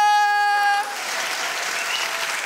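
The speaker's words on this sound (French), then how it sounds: "Je vais vous demander s'il vous plaît de faire un tonnerre d'applaudissements pour Grégory Montel." A held musical chord rings briefly and cuts off, giving way to a university evening crowd's applause for actor Grégory Montel: broad, steady clapping filling the rest.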